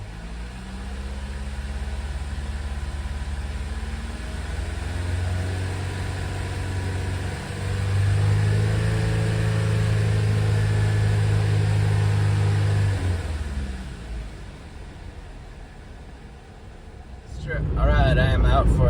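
A Chevy Cobalt engine runs in gear with the car lifted off the ground after a transmission shift solenoid replacement: a close, steady rumble swells as revs climb, holds, eases back, then rises again at the end.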